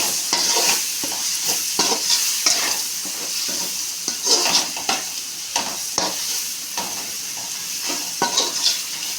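Vegetable rice with chicken masala being stirred in a pan: steady scraping and mixing strokes over a continuous oil sizzle, close and moderately loud, with occasional utensil knocks against the pan and no talking.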